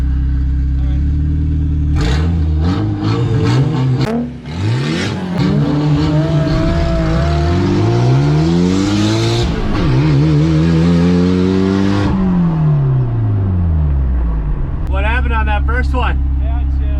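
Mitsubishi Eclipse GSX with all-wheel drive and a Nissan 350Z launching side by side from a dead stop, loud engines revving up through several rising gear pulls with shifts, close and sustained, fading to idle at the end.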